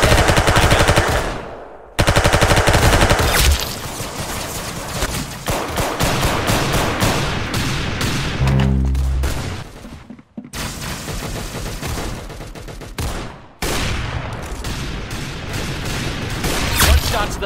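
Rapid game gunfire in Roblox Arsenal, loud and dense, with bursts of automatic shots and single cracks that keep going, pause briefly and start again, with a voice now and then underneath.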